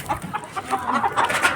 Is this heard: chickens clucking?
yes